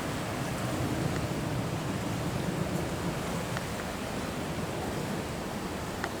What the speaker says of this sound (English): Chamonix Creek is still pretty high, as you can see. We're still flowing pretty fast here.